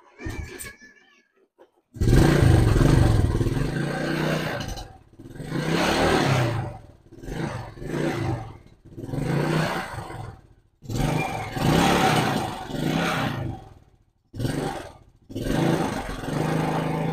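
A motorcycle engine with a slipped timing chain runs while its idle is being adjusted, giving loud, rough bursts of revving separated by short drops and pauses, close by.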